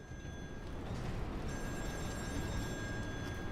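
An old oil rig telephone rings in a horror game, a steady electronic trill with bright tones that stays quiet and continuous and sounds somewhat distant.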